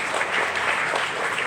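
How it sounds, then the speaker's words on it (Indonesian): A seated audience at a provincial council meeting claps in a brief, dense burst of applause, even and fairly loud throughout the short span. "Mari kita tepuk tangan dulu."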